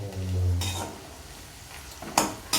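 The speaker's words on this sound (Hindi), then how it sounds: "इन सबको हम अच्छे से फ्राई कर लेते हैं" Mixed vegetables, including carrot, sizzle in a pan under a continuous close hiss. A spoon or spatula scrapes and clanks against the metal three times, with the last two strikes coming close together near the end.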